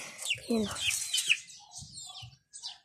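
A hen clucks and chirps in short, high calls close by, with a voice talking at the same time.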